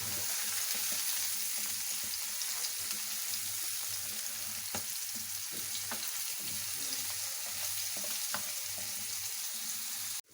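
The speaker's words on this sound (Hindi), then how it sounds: "अब मसाले को हम अच्छे से भूनेंगे।" Masala spices frying in a pan, a steady close hiss of sizzling oil with faint scattered scrapes of stirring throughout.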